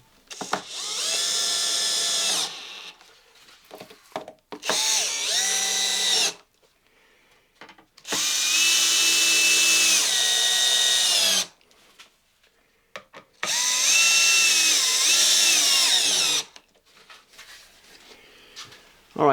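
A power drill drives in bursts to tighten a recorder mount into place, four sustained whirring runs of a few seconds each with short pauses between, loud and close.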